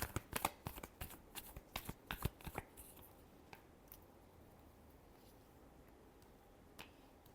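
Tarot cards being shuffled in a quick run of sharp, crisp riffling clicks for about three seconds, then quieter faint handling with one last soft tap.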